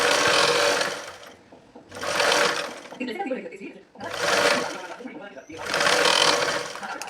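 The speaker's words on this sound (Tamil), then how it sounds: "இது ரெண்டையும் கரெக்டாக வச்சு ஒன்று போல் தையல் போட்டுக்கோங்க" A sewing machine stitches fabric and lining together in four loud bursts, each lasting about a second, separated by short pauses in which someone speaks.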